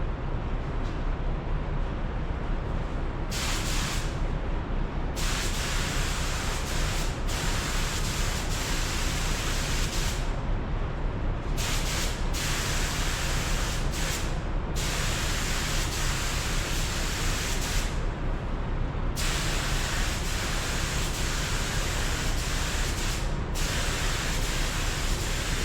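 A spray gun lays automotive base coat with a loud, continuous rushing hiss of air and paint. Its brighter edge cuts out briefly several times as the trigger eases, while the broad roar carries on throughout.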